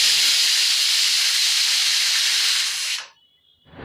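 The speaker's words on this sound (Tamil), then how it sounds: "இந்த குக்கரை வந்துட்டு அடைச்சி வச்சுட்டு 4 விசில் வர்ற வரைக்கும் நம்ம இதை வேக வச்சுருவோம்." A pressure cooker vents a loud, steady hiss of steam while cooking mutton keema for Mumbai-style kothu curry, holding for about three seconds before cutting off abruptly, followed by a brief faint tail.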